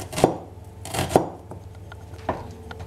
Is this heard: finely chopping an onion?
yes